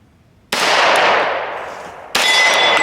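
Two loud, sharp gunshots from an H&K Mark 23 pistol, each a sudden crack followed by a ringing decay, the second about one and a half seconds after the first, close and outdoors.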